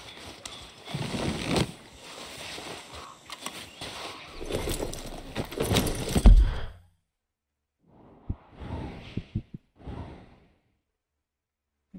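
A horse in the video game Red Dead Redemption 2 heard up close: rustling, snorting and hoof thuds for several seconds, then a pause followed by a few scattered snorts and hoof sounds.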